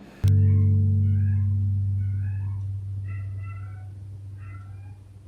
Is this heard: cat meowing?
yes